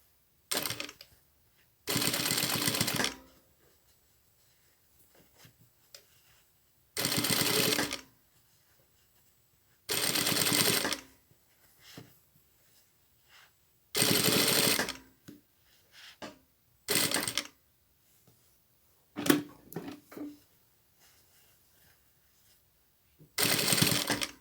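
Sewing machine stitching the lining of a child's lined coat sleeve to the coat lining, with a one-centimetre seam allowance, running in about eight separate loud bursts of steady whirring broken by quiet pauses, and no voices.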